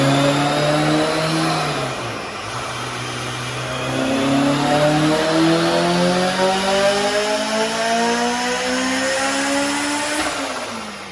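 Honda S2000 engine fitted with a Kraftwerks C3881 supercharger, running loudly and steadily, revving up, dropping briefly, then climbing again with a rising whine before easing off, close and alone with no talking.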